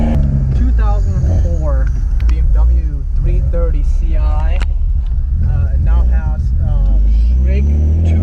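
A cammed 2004 BMW E46 330Ci with 264/248 cams, headers and no tune, idling in a steady low rumble that sits under loud, continuous close-up talking.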